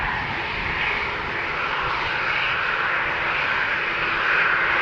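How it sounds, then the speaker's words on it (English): Brand-new EasyJet Airbus A320neo jet on departure from Amsterdam Schiphol's runway 36L, bound for Glasgow; a continuous, fairly loud engine roar holds steady with a slight swell near the end. "So it is the EasyJet Airbus at the threshold that will go first."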